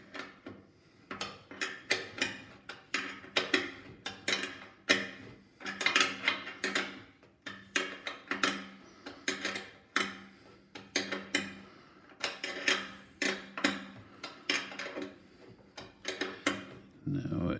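A wrench ratchets in repeated rapid bursts of clicks while installing a fuel tank on a first-generation Chevrolet Blazer under restoration, close and rhythmic, with brief pauses between runs.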